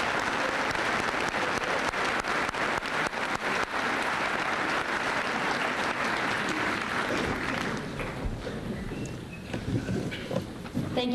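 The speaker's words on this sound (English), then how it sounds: "Can we have a round of applause, please?" A school senior assembly audience applauding: loud, dense clapping for several seconds that thins and fades toward the end, leaving a few scattered claps.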